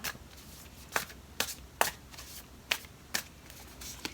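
Tarot cards are shuffled and pulled from the deck, making a series of crisp, close slaps and riffling snaps spaced irregularly about every half second over a quiet background.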